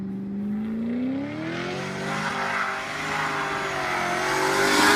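A Rover SD1 3500 V8 engine revs up smoothly, its pitch rising and then holding in a steady climb, loud and close with a growing roar toward the end.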